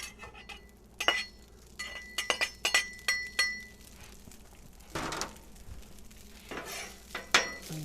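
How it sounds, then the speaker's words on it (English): Mexican rice reheats in an oiled pan, with a soft sizzle under repeated clinks and scrapes of a utensil stirring against the pan in irregular bursts. "We're going to start with rewarming some Mexican rice I made the other night."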